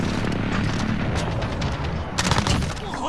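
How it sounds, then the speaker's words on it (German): Airstrike explosions in a Call of Duty multiplayer match: a dense, continuous rumble of booms and blasts, with a louder cluster of impacts near the end, all sounding fairly close. "Okay, der Luftschlag."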